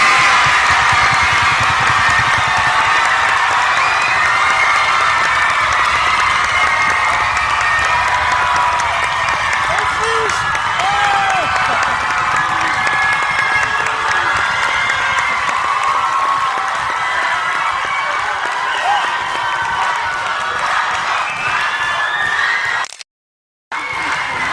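A large crowd applauds and cheers loudly and steadily at a live beatbox battle, with whoops and screams over sustained clapping until it cuts off abruptly near the end.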